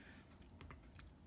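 Quick, light taps of fingers keying numbers into a handheld calculator, a few soft close clicks in a short burst, quiet and alone with no voice.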